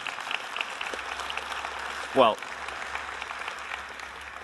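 An audience at a talk keeps up a soft, steady patter of clapping, fairly distant and even, while a voice speaks briefly partway through.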